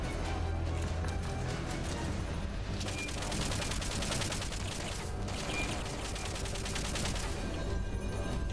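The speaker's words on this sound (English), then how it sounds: "I guess I can try to shoot it with the M60 while it's moving around like this." M60 machine gun fire in the video game Metal Gear Solid: Peace Walker, a dense, continuous rattle of rapid shots that stays loud and steady throughout, with no pauses.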